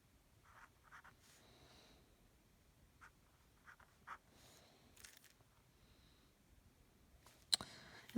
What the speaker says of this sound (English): So let me go ahead and just sketch one of these out for you.